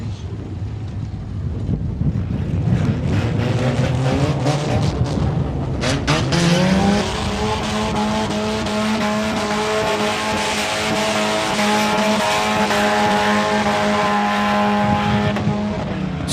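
Junk derby cars in a big rig collision class at a live demolition derby event rev and drive with loud engine roar and whine, tire noise and impacts, one car backing into another, heard continuously and up close.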